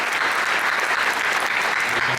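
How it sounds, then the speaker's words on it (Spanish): Hall audience gives a strong, dense round of applause after a conference talk, sustained and even for about two seconds with no voices. "aplauso"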